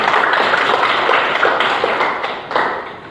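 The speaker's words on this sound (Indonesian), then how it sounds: "Oke, tepuk tangan untuk Aulia." A classroom group applauds a student during a lesson, the loud, dense clapping running steadily for about three seconds with no talk over it.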